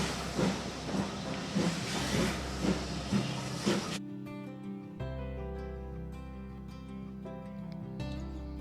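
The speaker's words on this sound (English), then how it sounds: "watching our train leaving and heading for Pickering" A steam train pulls out of Goathland station toward Pickering, opening with a loud, sustained hiss of steam that cuts off to a steady low rumble and hum as the engine draws away.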